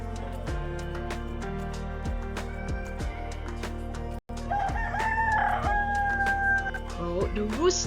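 A rooster crows as a read-aloud sound effect for a children's picture book about a busy spider, loud and close, with clucking and farmyard fowl around it.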